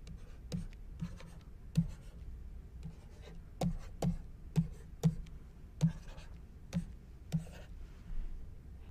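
Chalk or marker taps and scratches across a board as the numbers one through nine are written, about a dozen short, distinct strokes in an irregular rhythm within a quiet room.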